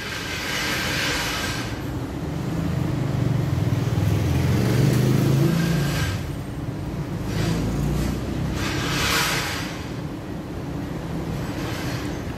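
A 1979 Toyota Corolla KE30 engine running during an oil and fluid change, a steady low rumbling drone that swells in the middle, with intermittent hissy broadband bursts over it.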